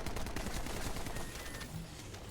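Rapid, overlapping poison explosions from a Freyna build in the video game Remnant, a dense continuous crackle of bursts with a heavy low rumble that eases slightly after the first second.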